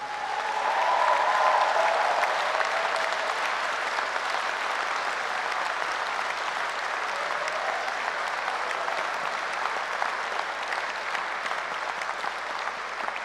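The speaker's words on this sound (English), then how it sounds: "let's honor them now with the loudest, most joyous applause we can give" Loud, joyous applause from a graduation audience, dense clapping from many hands sustained evenly and unbroken throughout, with no voices rising above it.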